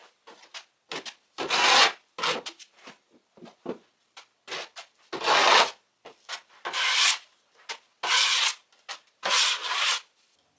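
Drywall joint compound being spread with a knife: rhythmic, close scraping strokes of varying length repeat one after another, with brief pauses between passes.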